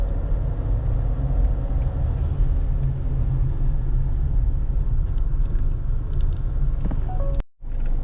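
An all-new Kia Sorento rolling along an ordinary road, giving a steady low rumble of tire noise from inside the cabin, constant and unbroken until a brief cut near the end.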